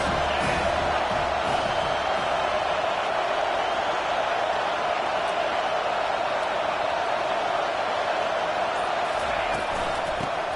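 Stadium crowd roars continuously at a college football game, Boise at Utah, a dense, loud wash of cheering and noise from the stands under a commentator's talk.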